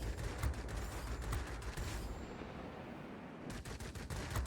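Aircraft guns in World of Warplanes shooting at an F-84B jet, rapid rattling bursts of fire over a steady engine roar, with a lull before a final burst.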